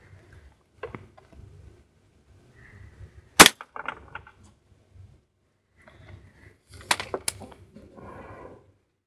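A WE HK416 gas blowback airsoft rifle fires a few sharp, snappy cracks at irregular intervals, close by, with small clicks and handling noises in an otherwise quiet room.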